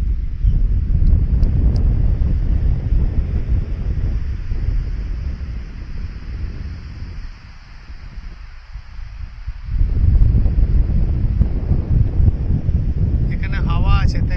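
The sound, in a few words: wind blowing on the fort by the sea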